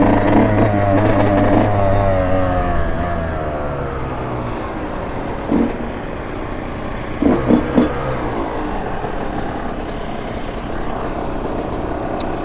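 Small two-stroke motorbike ridden through city streets, its engine droning and rising and falling in pitch as it accelerates, with passing traffic noise and a few sharp bumps along the way.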